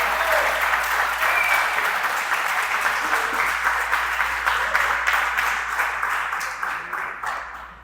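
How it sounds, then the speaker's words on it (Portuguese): Loud, sustained applause from a church congregation, a dense wash of many hands clapping that holds steady and then fades slightly toward the end. "Dá uma salva de palmas a Jesus."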